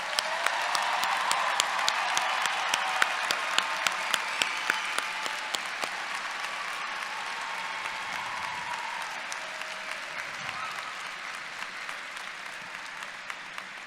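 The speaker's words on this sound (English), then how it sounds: "Let's give these graduates another round of applause." A commencement audience at Tennessee Tech University applauds the graduates, a dense, sustained wash of clapping from a large crowd that stays steady and slowly eases over about fourteen seconds.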